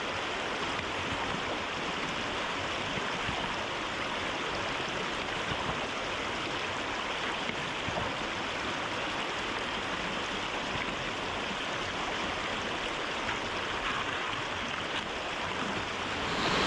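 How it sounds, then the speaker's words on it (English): River water flows steadily past a gravel bar outdoors, a constant, full rushing wash with no breaks, close and fairly loud throughout. "listening to the water flowing by"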